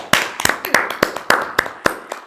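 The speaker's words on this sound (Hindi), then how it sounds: "तो एक बार मिस सदफ के लिए भरपूर तालिय" A few people clap for a teacher in a small indoor room, sharp uneven claps coming in quick bursts, close by and lively.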